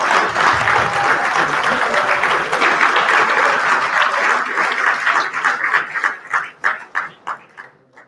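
A loud, dense crowd applauds at a fire department recruit graduation ceremony, then the clapping thins out into a handful of separate, fading claps.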